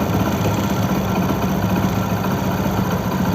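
A motorbike engine with faulty CDI ignition timing idles unevenly. The close, continuous mechanical drone and buzz run throughout without pause or speech.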